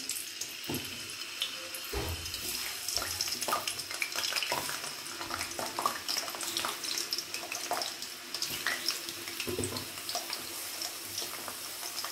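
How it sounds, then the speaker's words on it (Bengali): Potatoes hitting hot mustard oil in a wok, a fairly quiet crackling sizzle broken by irregular sputters and stirring taps throughout. "সর্ষের তেলটা একটু গরম হলে আলুগুলোকে দিয়ে দিচ্ছি"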